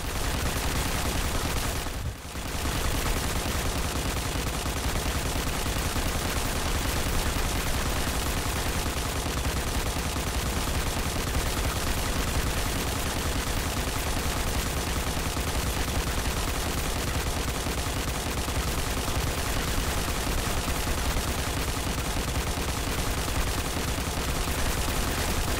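Sustained gunfire as a 58-round magazine is emptied, a dense continuous roar of shots that runs loud and almost without a break from start to finish, with no talking.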